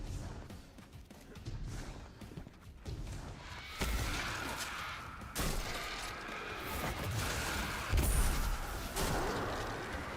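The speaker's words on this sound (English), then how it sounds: "Explosions everywhere." Explosions and gunfire in the Destiny 2 Shadowkeep campaign, a heavy barrage of blasts and bursts with several sharp booming impacts standing out over continuous loud rumbling.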